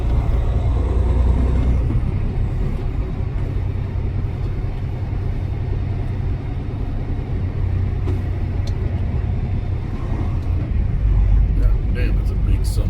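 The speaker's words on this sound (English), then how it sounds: "that's a big son of a bitch in that fucking rail truck next to me" A large rail company truck rumbles alongside in Chicago traffic, with a loud, steady engine drone and a hiss like air brakes. Someone talks over the road noise throughout.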